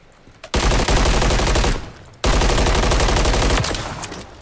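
Two long, loud bursts of automatic fire in a shooting video game, separated by a short gap, the second fading toward the end, with no talk.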